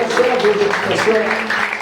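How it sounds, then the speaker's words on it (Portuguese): A church congregation applauding, a dense, steady clatter of many hands clapping together, loud and close, mixed with voices. "Meu irmão, você pode aplaudir o Senhor Jesus?"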